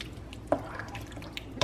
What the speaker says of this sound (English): I just put it in a measuring cup to pour it